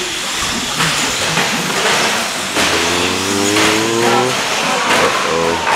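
2WD short course RC trucks racing in an open A main, their high-pitched electric motors whining in rising and falling harmonic sweeps as they pass, over steady broadband track noise, close and loud.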